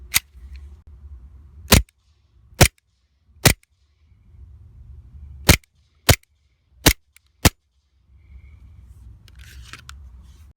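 Seven sharp, loud cracks from an Elite Force Glock 19 airsoft pistol heard from the shooter's position, fired singly at irregular intervals, with a low rumble of background noise between shots.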